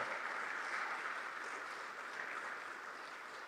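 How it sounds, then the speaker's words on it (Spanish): A church congregation claps for the Lord, a steady wash of applause heard faint and distant, sustained without break for a few seconds. "Démosle fuerte las palmas al bendito Señor."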